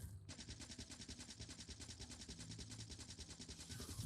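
Machine gun in Factorio firing a steady rapid stream of evenly spaced shots, continuous for about three and a half seconds at a fairly low level, with no talk.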